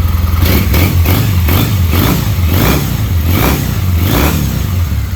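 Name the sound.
2006 Triumph Bonneville T-100 motorcycle engine revving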